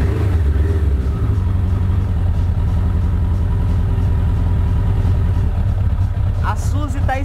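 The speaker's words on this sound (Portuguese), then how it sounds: "Vamos ligar a moto aqui." A Suzuki RF900R motorcycle engine runs at a loud, steady low idle, close by, with a brief higher rev near the end.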